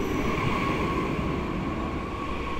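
A train rolls steadily past in a steady rumble with a faint high whine on top, a continuous, fairly close rail noise with no voices, used as a sound effect in a ghost story set at a lonely station.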